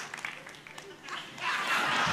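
Studio audience applause at a televised charity telethon comedy routine, a soft wash of clapping that swells and grows louder toward the end, with voices mixed in.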